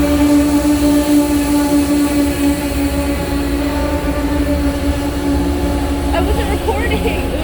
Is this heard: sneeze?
no